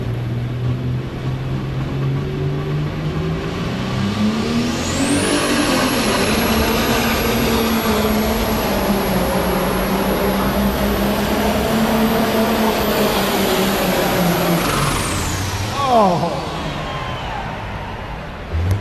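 A pro stock pulling tractor engine roars at sustained full power with a rising high-pitched whine, then abruptly drops off near the end as the boost fails.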